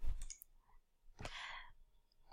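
Computer mouse clicking while working through task-management software: a couple of sharp, quiet clicks near the start and a brighter click with a brief rustle in the middle, with no talking.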